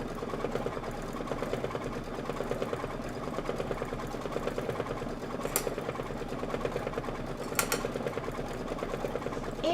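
Sewing machine running steadily through a quilting sew-along project, a quiet continuous rapid stitching whir with a couple of brief sharp clicks and barely any talk.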